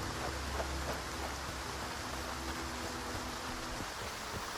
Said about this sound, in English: As the rain poured down